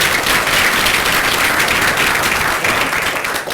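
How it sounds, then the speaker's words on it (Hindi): An audience at a group discussion and interview training session claps together in sustained, dense applause that stays loud and even from start to finish, fading slightly at the very end. "खुद के लिए भी एक तालियां बजा लो यार"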